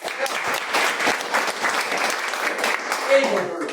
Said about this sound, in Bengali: এই ডিএক্সএন এর জন্য একটা জোরে করতালি।